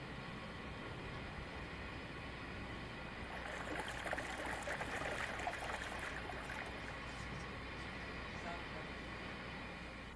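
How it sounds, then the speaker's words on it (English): Waste drains from a tank through a hose off an opened drain valve, heard as a faint, steady rushing flow with a slightly stronger surge midway. "pull the drain valve handle and allow the waste to drain"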